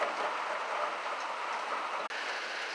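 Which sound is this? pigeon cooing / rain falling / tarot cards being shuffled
rain falling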